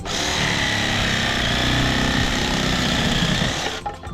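A loud, steady electric saw whines and buzzes continuously at close range, cutting through wood without pause before stopping abruptly near the end.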